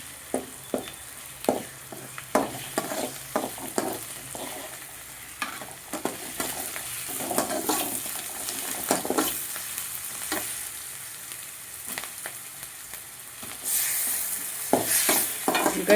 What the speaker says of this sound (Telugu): అల్లం వెల్లుల్లి పేస్ట్ వేయించిన పచ్చివాసన అయిన తర్వాత మనం టమాటా వేసుకోవాలండి.